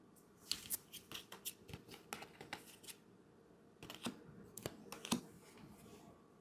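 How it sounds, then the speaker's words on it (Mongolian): Oracle cards being handled and shuffled, with a rapid run of crisp riffling snaps and flicks, a short pause, then more card slaps and shuffles close by with no talking. "За Oracle карт авч үзье"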